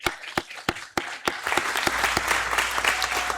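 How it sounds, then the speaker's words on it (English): Applause from a church congregation, starting with a few separate claps that build into steady, dense clapping. "Let's give them a round of applause."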